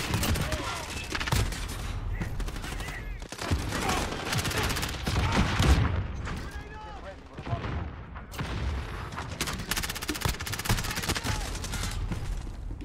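Rapid bursts of MP7 submachine gun fire and other gunshots crackle through a hardcore team deathmatch round in a Modern Warfare shooter, dense and continuous with a few heavier booms, while a player talks over the action.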